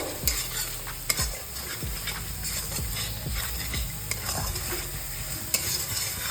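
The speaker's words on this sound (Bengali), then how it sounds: "কাঁচা লঙ্কাটাও এর সঙ্গে কষিয়ে নেব" Green chili paste stir-fried into ginger-garlic masala for Bengali chicken bharta, with steady sizzling under repeated rhythmic scraping strokes of a spatula against the pan, close and clear.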